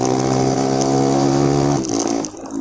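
A motorcycle exhaust drones loud and close with a steady, buzzing engine tone, then the revs drop away abruptly near the end.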